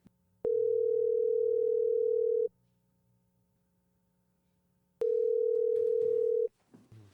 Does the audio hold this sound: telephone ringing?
yes